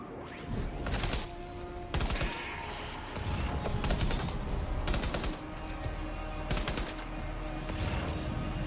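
Gunfire from shooting at non-human enemies in the video game Death Stranding 2, loud repeated bursts and volleys cracking over a steady low rumble and ambient music, several sharp blasts clustered through the stretch.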